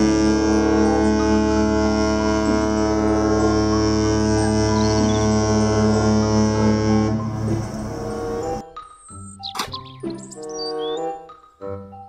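A toy cruise ship plays its electronic sound effect: a loud, sustained horn-like tone holds for about seven seconds, then breaks into short chirpy beeps and tones.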